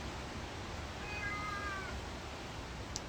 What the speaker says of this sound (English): it sounds like a baby, but it's actually a cat who likes to talk a lot